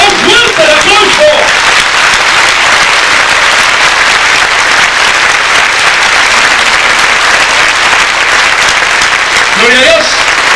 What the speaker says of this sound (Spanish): si ese aplauso es para Dios, debe de ser más fuerte el aplauso